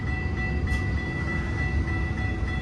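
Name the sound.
freight train passing a level crossing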